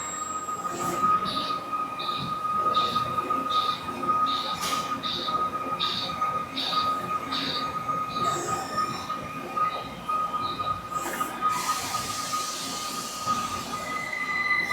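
A CNC lathe running a G76 threading cycle at 3000 RPM produces a steady high-pitched machine whine. Repeated short bursts sound as the tool makes successive threading passes, and a hissing wash rises near the end.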